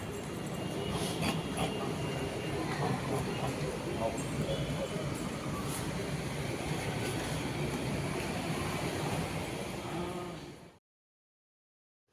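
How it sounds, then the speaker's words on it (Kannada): A metro train ride with steady, loud rumbling and rolling noise throughout, the constant wash of the carriage in motion, ending abruptly in silence near the end. "ಹಾಗೆ ಮೆಟ್ರೋ ಹತ್ತಿ ಮೆಟ್ರೋದಿಂದ ಇಳಿದು"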